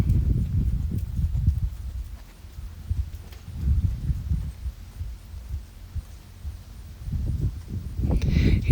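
A horse walks with soft, rhythmic low thuds of hooves in an arena during a stretchy walk, the steps coming in clusters with quieter gaps between them and no talking.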